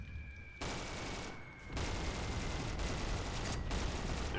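Sustained automatic STG rifle fire in a shooter game, a steady unbroken stream of shots after a brief quiet start, fairly faint overall with short gaps between bursts.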